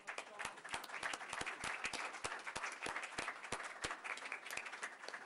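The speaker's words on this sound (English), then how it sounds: "let's give these folks a round of applause" Audience at a Franklin Township, New Jersey council meeting applauds a $500 check presentation for the Municipal Alliance, steady clapping throughout with sharper individual claps standing out, moderately distant and evenly sustained.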